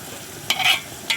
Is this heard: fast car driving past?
no